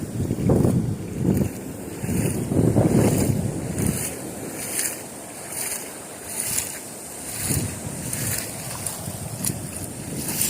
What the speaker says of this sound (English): Alright, it's kind of windy.